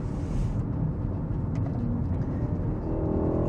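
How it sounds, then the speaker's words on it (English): Steady engine drone from a 2021 BMW 128ti hot hatch with its four-cylinder, continuous and fairly loud with a rising tone near the end, no voices. "It's just the engine sound amplified, and that definitely sounds to be the case."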